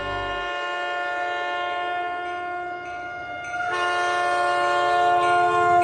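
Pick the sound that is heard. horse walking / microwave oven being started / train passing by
train passing by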